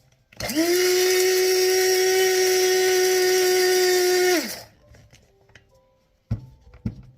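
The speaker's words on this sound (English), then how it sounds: "you do want to grind this together" Celery and salt ground together in a small electric grinder: a loud, steady motor whine running about four seconds alone, then stopping, followed by a couple of brief knocks.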